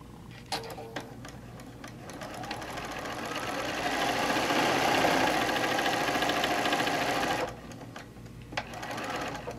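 A sewing machine stitches a quilt at home, starting with a few short bursts, then running fast and steady for several seconds before stopping and giving a few more brief taps.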